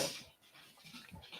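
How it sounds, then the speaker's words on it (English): Dog panting indoors, faint quick rhythmic breaths repeating steadily at a low level, no talking. "Oh, here comes the dog, too."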